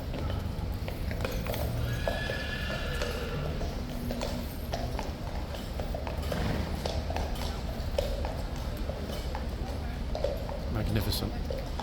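Hooves of the King's Horse Guards mounts clip-clop on pavement at a ceremonial guard change, with a horse neighing, under steady crowd noise and talking nearby.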